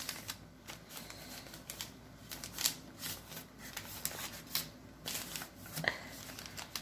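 A leaf wrapper is folded by hand around a Puerto Rican yuca pastel filled with beef, producing faint, close rustling and crinkling with soft irregular taps and crackles throughout.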